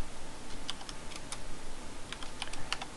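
Someone types a command on a computer keyboard: quiet, close key clicks come in two short bursts of rapid taps, separated by a brief pause, with no talking.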